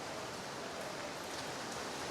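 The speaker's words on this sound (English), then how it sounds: "It's been raining constantly" Steady rain during the rainy season in Da Nang, Vietnam, a dense continuous hiss of falling water heard alone and fairly close, with no voices.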